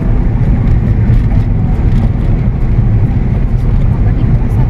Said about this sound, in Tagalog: Maugong ang makina sa tukad na ito.